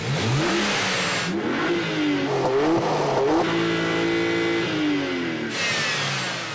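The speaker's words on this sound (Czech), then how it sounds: "Rozdíly mezi oběma charakteristikami jedničky M Coupé jsou znát nejenom v jízdě, ale taky v soundu motoru a výfuku." A BMW 1M Coupe engine and exhaust rev hard through repeated rising and falling sweeps, with throttle blips between them. The car is loud and close, and no one talks over it.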